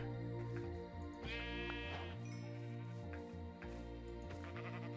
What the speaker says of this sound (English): Brown sheep.